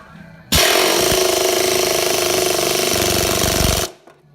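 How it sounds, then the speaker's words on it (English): A pneumatic air hammer drives an upper control arm part into place on a 2003-2007 Honda Accord, a loud steady rattling burst lasting about three seconds, starting and stopping abruptly. "So we're gonna use air tools here and ram this on home, and hopefully it does the trick."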